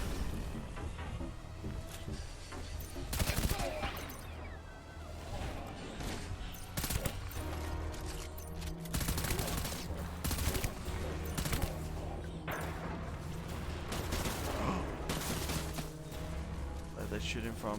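Rapid bursts of enemy gunfire in the Death Stranding video game, dense volleys and sharp cracks recurring across the stretch, with a player talking over the shooting.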